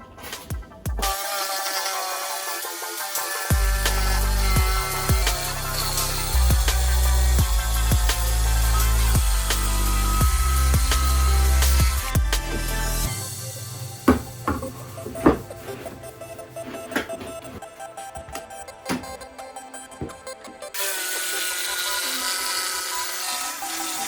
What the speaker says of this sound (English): we're going to cut one side first with a jigsaw, flip it over and do the other